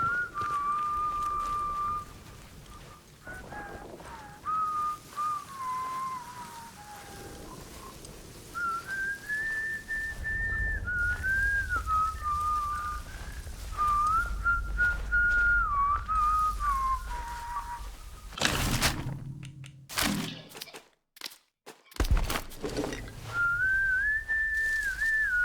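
Outlaws in the video game Atomfall whistle melodic, wandering tunes almost nonstop over a low rumble, broken briefly near the end by a few sharp noise bursts and a moment of near silence before the whistling resumes.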